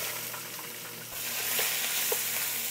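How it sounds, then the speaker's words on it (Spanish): Onion frying in oil over medium heat, a steady close sizzle with light crackle and stirring that grows slightly fuller partway through, no voices. "Bajamos la candela a medio y en ese mismo aceite vamos a incorporar la cebolla."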